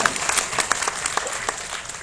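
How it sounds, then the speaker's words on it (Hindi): Audience applause at a student elocution contest during a Maharshi Dayanand festival, a steady burst of clapping from a crowd lasting the full couple of seconds, moderately close. "मेरी भी बात अच्छी लगी तो ताली बजा ही सकते हैं।"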